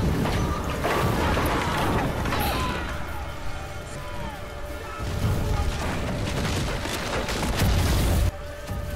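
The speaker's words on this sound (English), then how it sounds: "Too busy firing cannons." Ship cannons boom during a pirate naval battle in the series Black Sails, with heavy repeated blasts and crashing impacts over a dense, continuous battle din and music.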